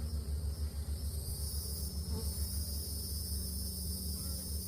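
A low, continuous buzzing of many honey bees swarming nearby, a steady droning hum that wavers slightly, with no voices.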